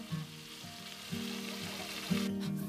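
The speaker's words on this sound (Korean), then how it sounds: "지글지글 구워지는 저 모습만 봐도 아이고 그냥 입에 침이 꼴딱 넘어가네요." Mackerel grilling at a fish alley stall in Jagalchi market, sizzling and crackling steadily at close range, with the frying swelling louder in surges and no voices over it.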